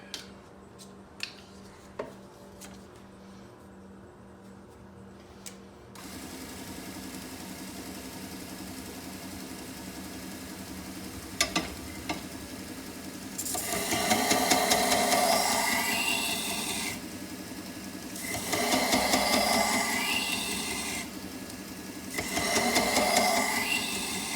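A belt grinder fitted with an 800 grit belt runs with a steady motor hum while a knife is pressed to it in three distinct loud grinding passes, each bright rasping stretch lasting a couple of seconds with short pauses between.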